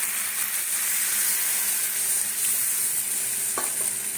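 Hot water poured into a sizzling spice masala in a pan, a strong steady hiss and sizzle with a short clatter near the end, close, no talking.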